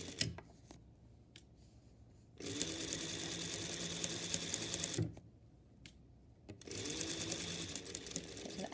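A sewing machine stitches a seam with back stitching in two long bursts, each running for a few seconds, separated by brief quiet pauses with small handling clicks.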